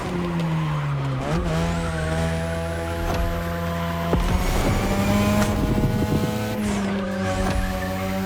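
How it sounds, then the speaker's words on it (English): Third-generation 2002 Mazda RX-7 with a rotary engine racing in The Crew Motorfest, engine droning steadily at high revs as repeated tire squeals and skids rise and fall over the run. "Tonight your ride is a 3rd Gen 2002 Mazda RX-7. Lightweight, compact, a sick rotary engine"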